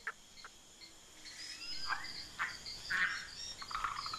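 A green frog croaks among large water lily leaves, a few short scattered calls, faint against a quiet outdoor background with insects.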